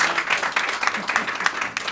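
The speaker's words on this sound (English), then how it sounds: "Let's have a round of applause" A live audience at a podcast recording at Design Central Southwest breaks into applause, a lively burst of many hands clapping close by that fades toward the end.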